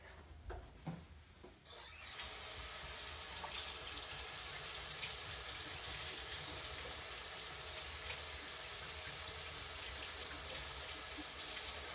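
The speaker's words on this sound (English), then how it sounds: "I'm going to wash my hands" A sink tap runs steadily while hands are washed beneath it, a constant close hiss of water starting after a couple of soft handling knocks.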